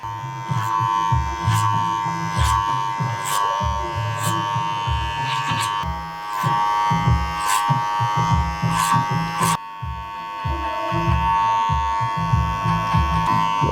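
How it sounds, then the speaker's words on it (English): Electric hair clippers running through a haircut, a loud constant motorized buzz close to the ear, with short changes in pitch and texture as the blades move through hair and briefly cut out. "You can still use clipper over comb, you can still go close."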